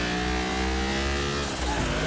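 A Nissan sports car engine in Car Mechanic Simulator 2021 revs with a steady, loud buzzing drone that shifts pitch near the end, heard alone without talk.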